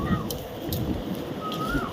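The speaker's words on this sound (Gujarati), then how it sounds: "વરસાદ શરૂ થઈ ગયો છે અહીંયા" Rain has just begun over a village farm near Botad in Gujarat, a steady, even hiss of falling water that fills the brief moment with no voices on top.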